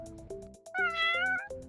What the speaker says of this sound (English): No, that's my cat Whiskers.